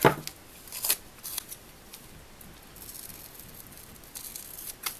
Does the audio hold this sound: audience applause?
no